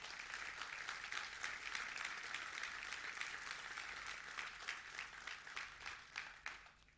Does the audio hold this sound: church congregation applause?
yes